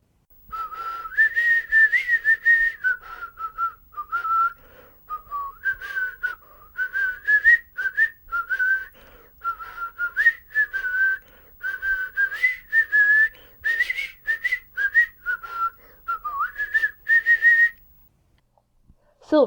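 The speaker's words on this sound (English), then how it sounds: "He was whistling "Come, Lasses and Lads."" Someone whistles the lively melody "Come, Lasses and Lads" alone, clear and close, phrases rising and falling in steady rhythm for most of the clip.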